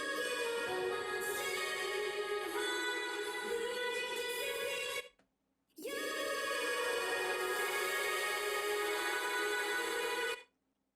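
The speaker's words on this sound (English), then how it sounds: "Then I have two ginormous reverbs that I made in the vocal production project." Two long, huge washes of reverb from Vintage Verb and Supermassive plugins, each a sustained shimmering tonal bloom lasting about five seconds, separated by a brief silence and ending abruptly.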